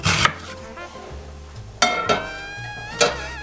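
A kitchen knife cuts food into quarter-inch slices, giving three sharp, separate strikes against the board, each with a short bright ring that fades before the next.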